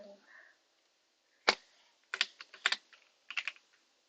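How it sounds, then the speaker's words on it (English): A computer keyboard clacks in a few quick bursts of keystrokes, close and fairly quiet, with short pauses between clusters of taps and near silence in between. "Because my keyboard does clack a little."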